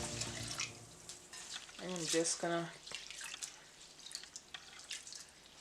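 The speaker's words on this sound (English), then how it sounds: "So I'm going to wash my rice" Rice being washed under running water in a kitchen sink for a Caribbean Sunday lunch, with steady close splashing and dripping as the grains are rinsed, while a voice speaks briefly over it.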